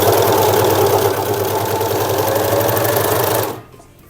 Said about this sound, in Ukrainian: Я підкладаю зазвичай сюди прямо під голочки, прибираю булавку та строчку.